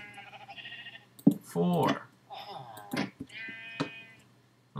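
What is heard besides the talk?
sheep bleating in the video game Minecraft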